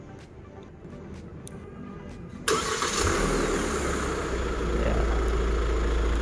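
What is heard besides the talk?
Hyundai Staria 2022 engine starting by remote, then idling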